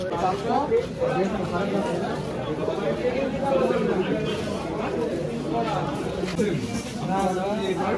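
Caged Madras pigeons coo in soft, overlapping burbling calls at Madhyamgram Pet Market in Kolkata, with busy market chatter and a nearby voice talking over them throughout.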